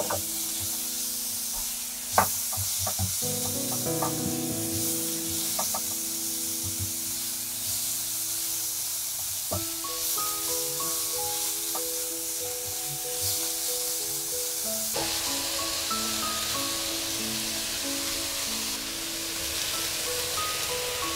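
Minced chicken breast is stir-fried in a pan with chili and garlic, a steady loud sizzle with scraping stirs and a sharp clank of the utensil near the start, continuing without any talk.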